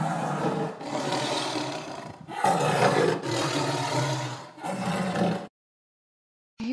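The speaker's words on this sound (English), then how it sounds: "T for tiger." A tiger gives a series of loud, close, deep roars in several long bursts with short breaks, ending in a pause of silence.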